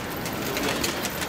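Pigeons coo softly in a low, throaty murmur against a noisy outdoor rooftop background hiss.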